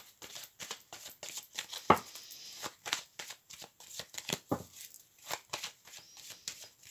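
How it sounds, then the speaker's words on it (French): Tarot cards are shuffled by hand close up, a rapid run of crisp riffling slaps and soft flutters repeating in quick bursts, quiet and unaccompanied by speech. "Je vais donc prendre alors le tarot pour avoir une carte d'énergie."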